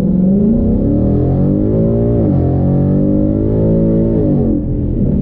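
The engine of a 2020 Ford Mustang running on 93 octane fuel drones loudly at steady revs with a slight rise and dip in pitch, heard close and alone without talk.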